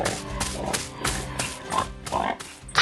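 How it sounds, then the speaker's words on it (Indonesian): Pink pigs oink around a red-and-white barn beside piles of yellow hay on a cartoon farm: repeated, fairly loud grunts in a bouncy rhythm over busy background music. "Babi-babi berwarna pink sedang bermain di sekitar gudang merah putih dengan tumpukan hai kuning"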